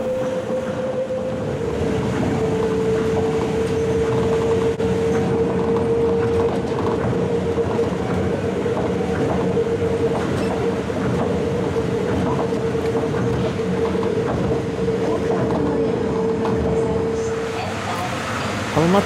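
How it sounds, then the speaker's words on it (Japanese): A Tokyo Monorail train runs past Showajima Station with a loud, continuous rumble and a sustained whining motor tone that holds steady for most of the run, then eases off near the end. "昭和島駅では先に発車した普通列車を追い抜きます。"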